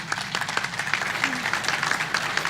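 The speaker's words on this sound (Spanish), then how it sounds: "Quisiera pedirles un aplauso para despedir a mis compañeros del panel" An audience at a Spanish-language academic panel applauds steadily, a dense patter of many hands clapping at moderate distance, sustained evenly for a few seconds.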